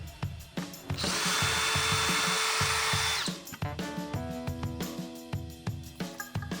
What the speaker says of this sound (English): You want to remove that 1 screw on each side.